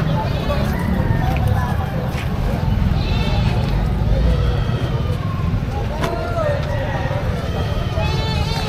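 Goats bleat intermittently amid a busy outdoor livestock market crowd in Padre Garcia, Batangas, with people talking loudly throughout.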